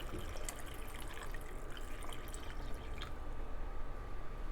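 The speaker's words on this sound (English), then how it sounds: "And then I'm gonna add the rest of it, the brine." Brine pours into a glass jar packed with carrots for probiotic pickling, a close, steady liquid stream with small dripping splashes and no talk.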